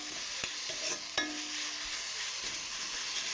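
Spices and chilli frying in a wok give off a soft, continuous sizzle, broken by a few sharp clinks and scrapes of stirring and a bright metallic ring early on.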